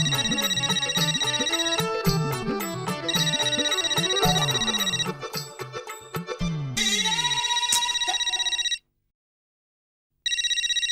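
An electronic telephone ringtone repeats in bright, warbling bursts, loud and close, with a short quiet stretch partway through before it resumes. No one speaks.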